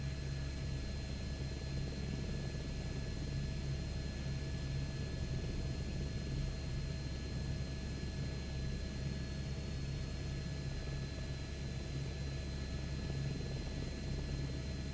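Helicopter rotor and turbine of a 500 model in Microsoft Flight Simulator 2024, a steady low thrum with a constant whine, even and unbroken throughout, no talk.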